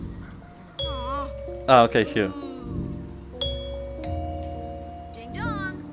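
A bell rung by a giant maestro in the VR game Ghost Giant, heard as bright tonal chimes and melodic notes against a game soundtrack, with a person talking briefly between them.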